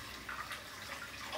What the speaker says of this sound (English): So I'm just gonna add a dip of water and then just go back into the shaving mug.